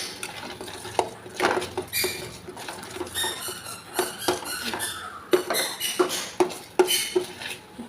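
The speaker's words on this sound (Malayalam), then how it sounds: "ഇനി നമുക്കിതിലോട്ട് കുറച്ച് കാഷ്യൂ നമുക്ക് പൊടിച്ചിട്ട് കൊടുക്കാം" Crushed cashews going into thick, nearly set halwa in a pan, with a run of clinking, scraping utensil taps and sticky stirring squeaks, close and fairly loud, no talk.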